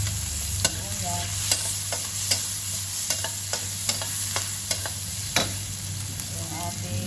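Onions fry with a steady sizzle in a pan for squid adobo, while a utensil scrapes and taps the pan at irregular intervals, close up, with a constant hum in the background.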